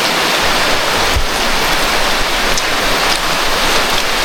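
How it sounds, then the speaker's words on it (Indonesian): Heavy rain pours in a rainforest beside a river during a camping trip, a dense, loud, unbroken roar of falling water with no voices. "Hujan semakin lebat kawan-kawan, dan air sungai ini pun kemungkinan akan banjir ya."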